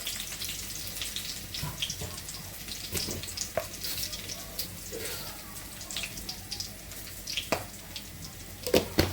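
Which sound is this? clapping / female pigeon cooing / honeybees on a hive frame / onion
onion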